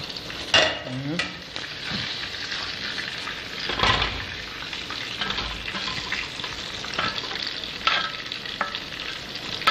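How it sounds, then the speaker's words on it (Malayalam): Fish frying Gulf-style in a pan gives a steady, close sizzle with crackling bursts and occasional scraping stir sounds, with no voices. "ഗൾഫുകാരൻ്റെ മീൻ ഫ്രൈ എന്ന് പറയുന്നത്"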